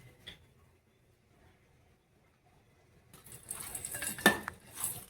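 Bitter gourd slices are tossed with salt and turmeric in a bowl, quiet at first, then clattering utensil and bowl sounds with a sharp clink during the second half.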